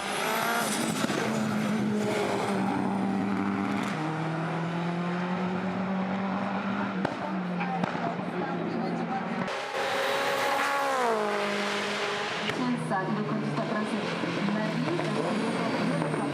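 A race car on a hill climb run roars loud and close, its engine note climbing through gears with abrupt shifts and revving, sustained throughout with a commentator talking over it.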